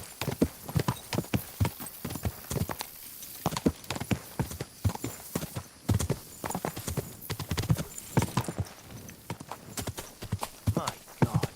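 Rapid, rhythmic clip-clop of horse hooves galloping in the video game Kingdom Come: Deliverance II, loud and close, with a brief whinny and occasional voices mixed in.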